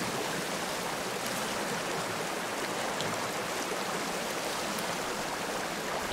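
A river rushes in the survival video game Sons of the Forest as a steady, even wash of noise that fills the whole stretch without change and with no voice over it.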